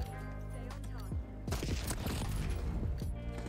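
Rapid bursts of XM4 assault rifle gunfire in Black Ops 6, sharp repeated shots clustered in the second half after a quieter stretch with music-like tones, moderately loud, with some talk.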